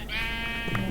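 Minecraft sheep, one short wavering bleat heard up close and alone, clear and fairly loud over a steady low game background.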